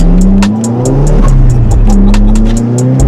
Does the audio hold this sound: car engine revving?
yes